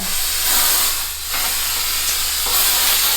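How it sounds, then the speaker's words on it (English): A steady, broad spray hiss runs throughout, briefly dipping near the middle before continuing, loud and close with no talking. "Snow spray makes everything look better."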